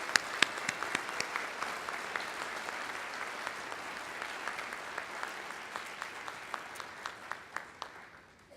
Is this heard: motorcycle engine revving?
no